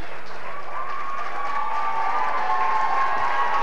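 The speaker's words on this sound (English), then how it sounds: "a round of applause there for Peter Fox" Crowd applause at an under-14 Gaelic football league final between Cuchulainns and Shannon Gaels, acknowledging a player, Peter Fox; steady clapping from a crowd with a sustained tone running through it, building slightly toward the end.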